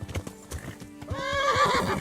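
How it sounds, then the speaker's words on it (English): In the Kingdom Come: Deliverance video game, a horse's hooves clip-clop in a quick galloping rhythm, then the horse gives a loud, drawn-out whinny that rises over the hoofbeats toward the end. "But the horse moans when it runs out of stamina."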